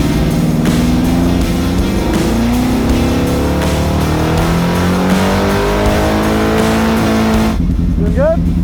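A homemade fake F1 car drives off close by, its engine droning and shifting pitch steadily for several seconds, with people talking over it before it cuts to a quieter moment with a rising whistle-like tone.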